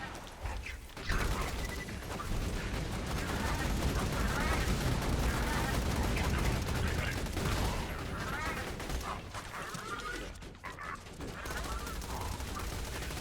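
Avenger gun from Borderlands 2 firing continuously in dense, rapid bursts with mechanical clatter, mixed with game effects and someone talking over it.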